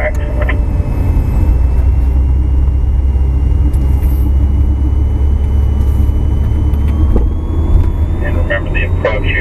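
A BMW M5 lapping a race track, its engine a constant loud rumble with steady wind and road roar throughout, gear changes faintly marked, and a voice talking over it.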